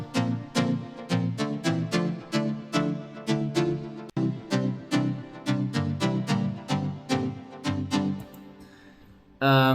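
Stereo-widened, stuttered synth lead melody layers from an electronic pop track played together, a steady run of sharp plucky rhythmic notes in an even pulse, briefly breaking, then ending in a louder swell.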